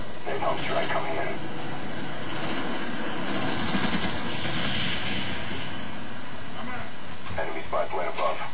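An air strike aircraft roars past in Call of Duty: Black Ops online multiplayer, a loud rushing engine sweep that swells through the middle and fades, mixed with game radio chatter and other battle noise.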